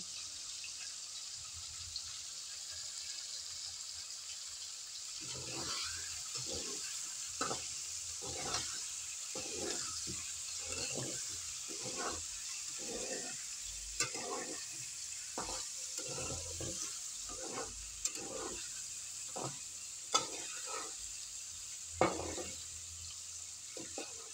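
Cauliflower fries in a pan under a constant low sizzle, with a long run of rhythmic scraping stir strokes that start a few seconds in and continue at a moderate level.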